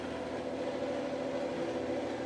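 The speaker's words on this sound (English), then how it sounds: "You're not really supposed to stick the utensil into the blender while it's blending" A blender whirs steadily while blending strawberry banana nice cream, a loud, even motor drone that runs without a break and has no voices over it.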